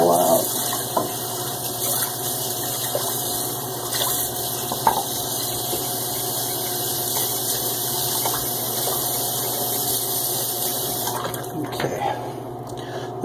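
Running water rinses out a shaving bowl at a sink, a steady close splash and hiss that continues throughout before cutting off near the end.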